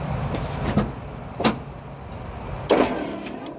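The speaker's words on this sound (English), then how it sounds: "At least the headlight motor works." The pop-up headlight motor on a Nissan 300ZX Z31 with loose, misaligned headlights whirs through three short mechanical bursts, each ending in a clunk, close by with no talk.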